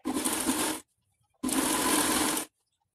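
A sewing machine stitches a seam on a child's pajama in two loud, even bursts of close mechanical whirring separated by a short silent pause.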